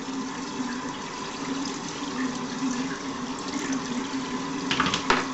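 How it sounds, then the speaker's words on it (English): A hairbrush is rinsed under running water from a tap, a steady close splash and trickle with a few sharper knocks and splatters near the end, no voices. "You want to rinse your brush out too to make sure there's no more conditioner left in it"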